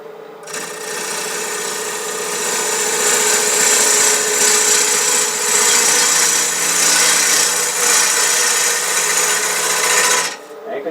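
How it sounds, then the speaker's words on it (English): A wood lathe spins at about 800 RPM while a bowl gouge faces off a shop stool blank, giving a steady, loud whirring hiss of cutting that holds for about ten seconds before stopping. "I've got it going at about 800 RPM, and I'm going to face this off with a bowl gouge"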